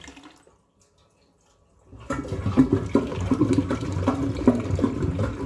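A British toilet flushing after a quiet pause: water suddenly rushes and swirls loudly and stays steady to the end, close by with no talking.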